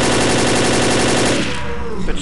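Loud, rapid automatic gunfire from the zombie co-op shooter Left 4 Dead, a dense continuous stream of shots that thins out and stops in the last half second.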